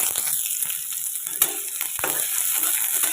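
Mustard seeds, green chilli and onion fry in oil in a pan, giving a steady, loud, close hiss and sizzle throughout with a few brief stirring clatters and pops.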